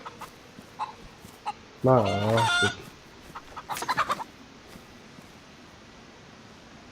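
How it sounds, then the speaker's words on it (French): A rooster in the DayZ survival game gives a short clucking call, fairly close and clear, then a quieter run of rapid clucks a moment later, with a brief spoken exclamation. "Un petit coq."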